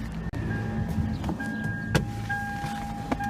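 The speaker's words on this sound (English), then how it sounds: "The sunroof tilts back down." The sunroof motor of a 2002 Lexus IS300 tilts the roof panel down with a faint, intermittent electric whine and a few light clicks over a low, steady hum.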